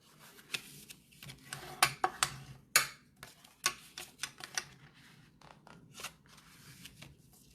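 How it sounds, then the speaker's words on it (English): A bone folder presses and scrapes along paper folds in a close series of crisp irregular ticks, clicks and short swishes against a quiet background, with no talk. "we're gonna use our bone folder and just hit all of those different folds"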